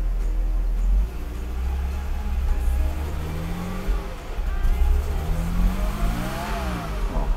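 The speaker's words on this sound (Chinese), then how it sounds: "我试着慢慢的加油看看，" A 1993 Mercedes-Benz W463 300GE with a fuel distributor fault labours under gentle throttle, its engine droning steadily and rising, stumbling without climbing freely; close and loud, no speech.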